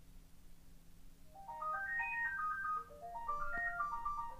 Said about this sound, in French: Je suis désolé pour le téléphone